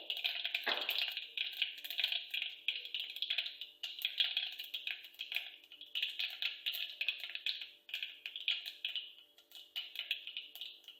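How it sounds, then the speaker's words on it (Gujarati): Mustard seeds crackle in hot oil while tempering for a guar and potato curry, a dense run of quick, dry pops and ticks that carries on steadily and close up for several seconds. "રાઈ સરસ ફૂટી ગઈ છે"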